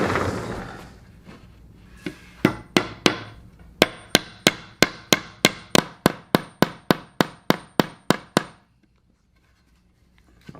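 A hammer drives nails into wood for budget soundproofing, starting with a few scattered blows and building into a fast, steady run of about twenty sharp, close strikes before stopping.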